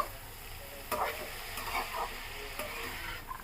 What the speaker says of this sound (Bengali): সবজিটা কিন্তু খুব সুন্দর করে ভাজতে হবে